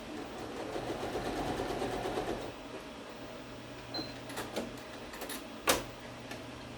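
A sewing machine runs a quilt block seam in a quiet room, a soft rapid mechanical whir for a couple of seconds, followed by faint clicks and handling noises.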